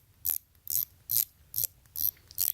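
A Tag Heuer diver series watch bezel is turned in six short ratcheting bursts of crisp clicks, close and quiet, with brief pauses between each turn.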